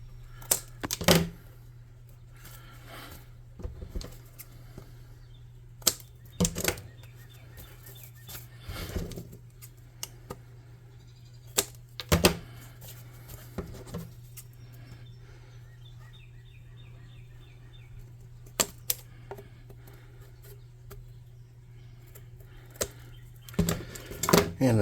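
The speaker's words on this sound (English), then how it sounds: "Okay, this should be an easy snip at the edges here." Scissors snip along the paper edges of a tabletop saloon model, giving a string of short, crisp cuts at irregular intervals over a low steady hum, close and fairly quiet.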